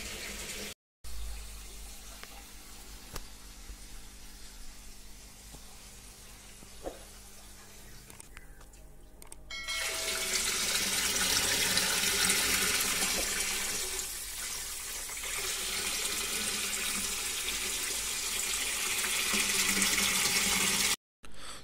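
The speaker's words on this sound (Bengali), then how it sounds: "তো জলটা ভরা হোক" Tap water pours into a flowerhorn fish tank: after a quiet stretch with faint handling noises, a loud, hissing rush of running water starts and continues steadily to the end.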